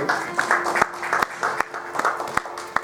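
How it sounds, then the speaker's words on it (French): A church congregation applauds together with sustained clapping, broken by a few sharper, louder claps standing out from the crowd. "Acclamons fort pour la parole du Seigneur"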